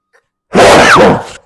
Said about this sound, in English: you don't want to sneeze in the bone broth though